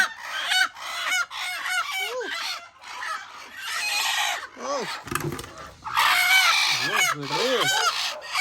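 Laying hens in the poultry section of a home farm, clucking and squawking loudly and close by, with repeated calls overlapping and some honking, while a person talks in between.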